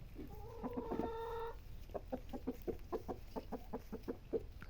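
Chickens on a goat farm cluck in a steady series of short, close calls, with one longer drawn-out squawk near the start over a low background rumble.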